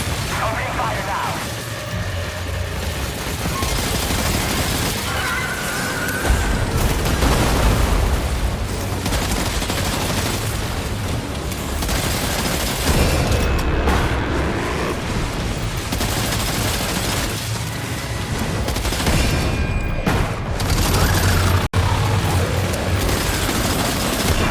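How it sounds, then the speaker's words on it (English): Sustained gunfire and booming blasts in the video game Death Stranding 2, a dense continuous barrage of shots and explosions filling the whole stretch, loud and close, with a Ghost Mech and Kraken attack raging on. "Opening fire now."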